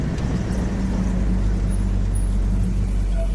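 A 1958 Plymouth Belvedere with a 318 V8 and dual exhaust cruises along, its steady, deep engine rumble droning close inside the cabin without a break.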